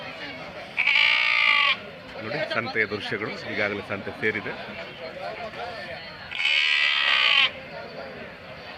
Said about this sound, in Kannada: ಇಲ್ಲಿ ಜಾಸ್ತಿ ಮೇಕೆಗಳು ಬರ್ತವೆ ಕುರಿ ಸ್ವಲ್ಪ ಕಡಿಮೆ ಇದೆ